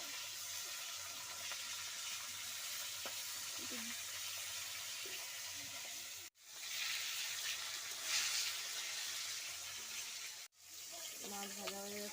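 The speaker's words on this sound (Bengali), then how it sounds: "এখন মাছটাকে ভালো করে ভেজে নিই।" Fish frying in hot oil in a kadai, a steady soft sizzle running throughout with brief gaps, accompanied by occasional light clinks and handling noises.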